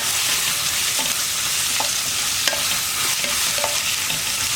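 Onions frying in a pan for a soya roast are stirred steadily, giving a continuous close sizzle broken by a few sharp scrapes and knocks of the spoon against the pan.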